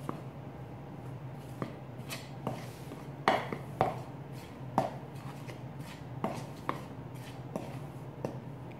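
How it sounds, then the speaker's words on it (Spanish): Dry ingredients for Dominican coconetes are mixed in a bowl, with a quiet run of irregular taps and knocks from a utensil striking the bowl over soft background noise. "Y ahora voy a mezclar todos mis ingredientes secos."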